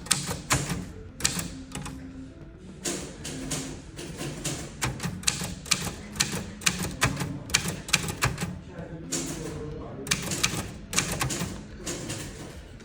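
Rapid clacking keystrokes on an old typewriter at Old Parliament House of Australia, sharp mechanical strikes in irregular bursts with short pauses, loud and close.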